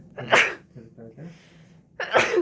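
Two sharp human sneezes, one at the start and another near the end, with a brief spoken phrase between them indoors during a toenail treatment.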